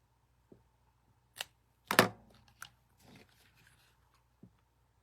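Scissors make a few quiet, isolated snips in a nearly silent room, with one sharper, louder cut standing out in the middle.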